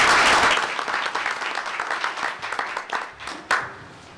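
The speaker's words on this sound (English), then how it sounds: "Let's give them a round of applause" Audience applause at a school board meeting for students and their parents: a dense burst of clapping that starts full and gradually thins to scattered claps, with one last sharp clap near the end.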